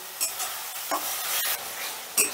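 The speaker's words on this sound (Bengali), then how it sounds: "এবারে এই মশলাটাকেও আমি বেশ খানিকক্ষণ কষে নেব।" Spice paste with sugar is stirred and fried in a pan, giving a steady soft sizzle broken by several scraping spoon strokes, close and without talk.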